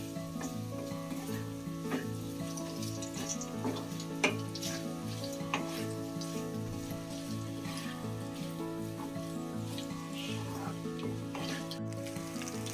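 Vermicelli upma being stirred and mixed in a hot pan, a soft steady sizzle with faint scraping, quiet and continuous with no talk.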